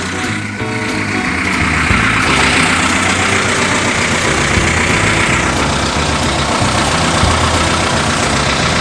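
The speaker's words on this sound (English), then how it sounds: "Because this engine runs on water." An engine runs at a steady idle, loud and close, with a continuous even rumble that does not change for several seconds.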